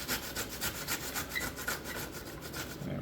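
Apples are grated for a strudel filling with steady rhythmic rasping strokes, close and fairly quiet, repeating evenly throughout with no voices.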